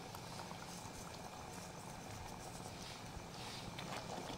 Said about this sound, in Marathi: आता याला एक उकळी आली आहे